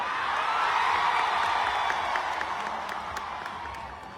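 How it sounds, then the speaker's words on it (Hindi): A crowd at a stage show in Hyderabad claps and cheers, a dense, steady wash of applause with scattered whoops that swells early and then slowly tapers off. "महिपाल चाचा के लिए कितना जोरदार ताली और हल्ला करके कि पूरा तेलंगाना हिल जाए"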